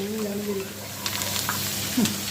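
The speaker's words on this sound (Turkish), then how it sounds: "Biber güzelce kavrulacak arkadaşlar. Biber salçası kullandım." Peppers and onion fry with pepper paste in a pan, a close, steady sizzle with stirring scrapes, while a voice talks softly underneath.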